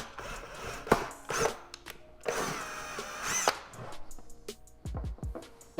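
A power drill whirs in short bursts, close by, drilling holes in a resin front lip of a BMW M5, with pauses and a few clicks and scrapes between runs.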